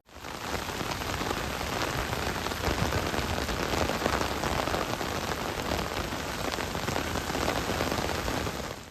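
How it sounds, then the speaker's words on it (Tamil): Heavy rain pours with thunder and lightning over Krishnagiri, Bargur and Uthangarai, a loud, dense, unbroken hiss of downpour hitting surfaces for the whole stretch. "கிருஷ்ணகிரி, பர்கூர், ஊத்தங்கரை ஆகிய இடங்களில் இடி மின்னலுடன் பலத்த மழை கொட்டியது."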